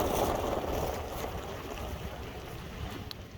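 A car driving along a road a few kilometers west of Belokurikha makes a steady, loud, broadband rumble from start to finish, with a wind-like hiss over it and no voices.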